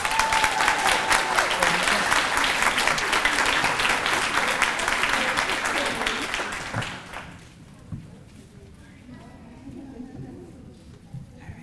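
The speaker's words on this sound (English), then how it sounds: "this is the first time as a teacher I've ever been applauded as I approach the podium to speak" Loud, dense applause fills a practical nursing commencement hall as a teacher approaches the podium, then fades after about seven seconds, leaving quiet room tone with a few scattered claps.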